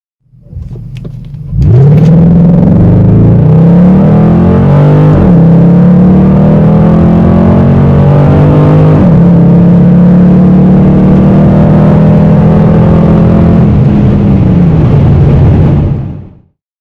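A 2006–2010 Dodge Charger SRT8 with the 6.1-liter Hemi V8 and five-speed automatic pulls hard from a launch, a loud, close engine roar climbing steadily through two upshifts for about fourteen seconds before fading out.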